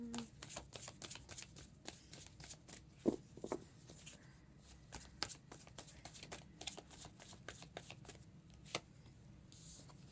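Close, quiet riffling and snapping of tarot cards being shuffled, with rapid papery flicks and a few sharper taps as cards are drawn, steady and continuous with no voice.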